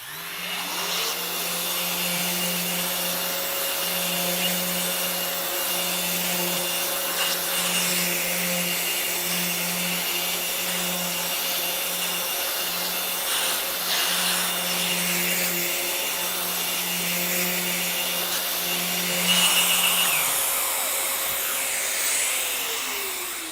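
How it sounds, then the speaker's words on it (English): A Festool ETS 125 REQ orbital sander with a 1500-grit abrasive works a lacquered surface, giving a steady close motor whine with an airy hiss. It runs continuously, then spins down near the end. "So we can now switch the sander on, and then we can start to take this surface down"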